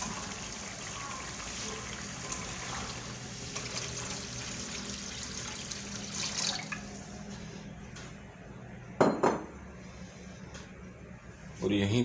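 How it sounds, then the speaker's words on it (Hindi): Water is poured into a pot of fried tomato and spice masala for a homemade tomato soup, about a liter going in, with splashing and gushing bursts around the middle and end while a cook talks over it. "अब इसमें हम पानी ऐड करेंगे करीबन 1 लीटर के करीब"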